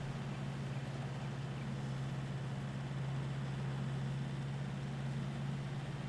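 Tractor engine in Farming Simulator 22 heard from inside the cab, a steady low droning hum with faint broadband noise, quiet and unchanging throughout with no talk.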